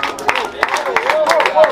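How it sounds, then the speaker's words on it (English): A small crowd claps unevenly at a house opening, the claps popping through steady voices and chatter near the listener. "Don't stop clapping."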